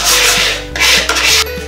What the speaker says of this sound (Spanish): Una vez que tengamos todos los palos cortados, vamos a proceder a lijar